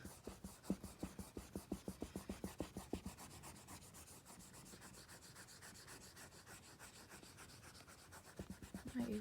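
Rapid rhythmic rubbing of a pencil eraser on paper while working linear equations, a run of quick scrubbing strokes that slows and fades, then resumes briefly at the end; close and alone with no talk.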